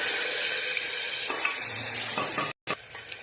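Onion frying in hot oil with cinnamon, pepper, ginger-garlic paste and chillies: a steady loud sizzle with a few light scrapes, cut off by a short silence near the end.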